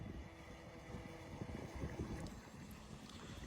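A small GPS autopilot boat on open water runs with a steady low engine drone as it turns and comes back in, heard from a distance under constant wind noise with no voices.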